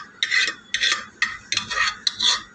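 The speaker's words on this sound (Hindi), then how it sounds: "ये देखिए हम जीरा को भूंज रहे हैं बाटी का चूरमा बनाने के लिए।" A spoon scrapes rhythmically across a hot pan roasting cumin seeds, about six short stirring strokes in quick succession, close and clear.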